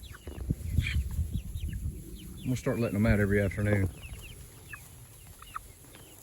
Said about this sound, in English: Good little chickens. Sitting there eating all the grass and certain weeds and stuff.